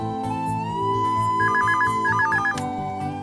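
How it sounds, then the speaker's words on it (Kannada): An indoor telephone rings loudly and close by with an electronic ringtone, a steady warbling tone that repeats in quick pulses over a low background hum for about three seconds, with no voices. "ಹಾಳಾದ್ ಫೋನು"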